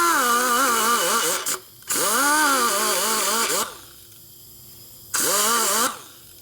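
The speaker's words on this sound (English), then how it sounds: "this is a really sharp, high-speed cutter, so it wants to cut real quick" A sharp high-speed cutter porting a Harley-Davidson Twin Cam 103ci Dyna cylinder head at low RPM: a loud, close, steady whine in sustained bursts that wavers in pitch, with brief pauses between passes.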